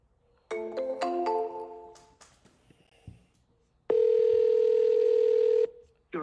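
A telephone rings for an incoming call back: a few electronic ringtone tones up front, then a loud, steady held tone running for nearly two seconds, with a short burst of sound at the end.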